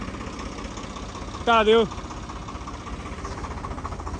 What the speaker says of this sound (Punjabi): ਟਰੈਕਟਰ ਖੋਲ ਭਾਜੀ